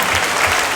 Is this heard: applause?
yes